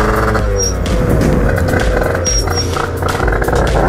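Gilera scooter fitted with a Stage6 70cc kit, engine running rich, revving steadily and loudly up close with a continuous buzzing roar and slight rises in pitch.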